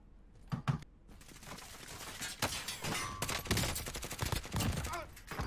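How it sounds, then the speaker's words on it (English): Gunfire cracks out in Call of Duty Warzone, a mix of sharp single shots and rapid bursts at varying distances, some loud and close, others fainter, with scattered impacts and a brief beep in between. "somebody just shooting at me from somewhere"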